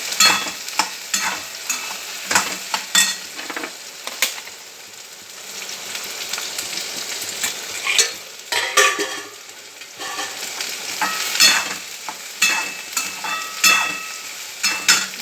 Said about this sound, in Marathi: चांगली भाजून घ्यायची